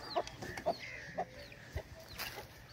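Several chickens cluck in short, separate bursts on a farm where hens and chicks are kept, about four distinct clucks spaced unevenly against quiet background noise, with no talk.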